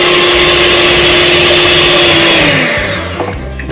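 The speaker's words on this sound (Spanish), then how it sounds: "Entonces vamos a prender la batidora." An electric mixer whirs loudly and steadily with a high motor whine, then slows and winds down near the end. No talking.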